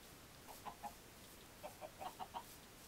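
Chickens in the video game Godcraft Frontiers cluck in short, soft bursts, a pair of calls followed by a quicker run of five or so, faint and alone against a quiet background.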